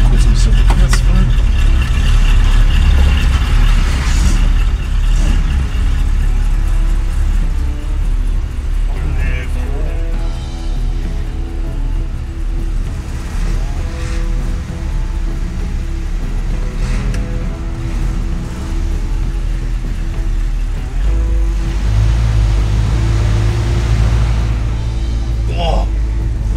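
Chevy Nova V8 muscle car rumbling loudly and close while briefly reversing, a continuous deep engine drone with a low surge near the end, with people talking over it.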